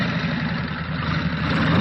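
A motorcycle engine idles steadily and close by, a continuous low rumble with no starting burst evident and no voices.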